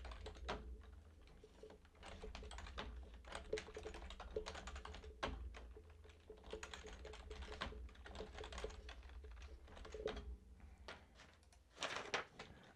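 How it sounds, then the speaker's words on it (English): Typing on a computer keyboard, a long stretch of fast, irregular key taps, close and steady, with a louder burst of clicks near the end. "I'll type this out so it's actually on the screen."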